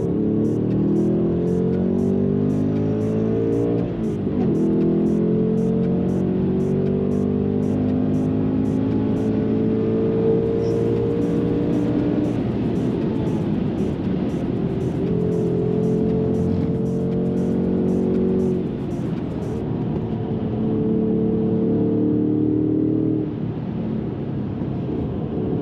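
A Ford Mustang RTR Spec 2 race car driving on a track, its engine droning steadily and loudly throughout while rising and falling in pitch through gear changes, recorded from close by.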